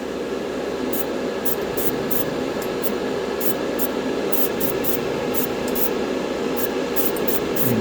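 Chrome paint sprayed from a can onto a 1/144 Gundam RX-78-2 model kit, a steady close hiss under a broad airy background with a dozen or so short sharp bursts as the nozzle is pressed repeatedly.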